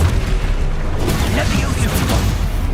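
Explosion spells go off in Hogwarts Legacy, a dense, loud wall of booming blasts and rumble with bursts layered over each other throughout, and voices mixed in underneath.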